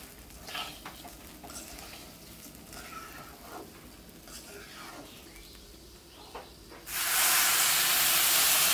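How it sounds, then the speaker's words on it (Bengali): Reddish-fried rice sizzles and is stirred with soft scraping, then hot water is poured in and a loud, sustained hiss of steam bursts up and continues to the end. "চালগুলো কিন্তু লাল লাল করে ভাজা হয়ে গেছে। এখন আমি এখানে গরম পানি দিয়ে দেব।"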